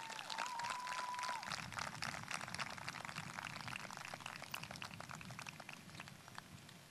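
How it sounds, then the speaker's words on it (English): Crowd applause at the Bell City High School 2020 graduation ceremony, a dense, crackling patter of many hands clapping steadily, heard somewhat faint and distant with no talking over it. "So a nice round of applause for those people"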